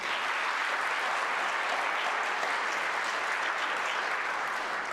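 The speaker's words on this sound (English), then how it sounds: "deserves a round of applause." Steady applause from an audience at a community needs evaluation event, sustained and dense for the full stretch with no pauses, a broad even wash of clapping at constant loudness.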